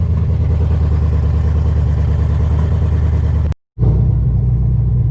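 A Corvette engine idles with a loud, steady low rumble that cuts out for a split second and then resumes, heard up close with no talk.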